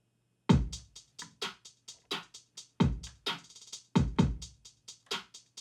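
A drum pattern from a produced music track, built from punchy kicks and snappy hits in a steady syncopated groove with a few accented bursts, dry, close and upfront with no voice.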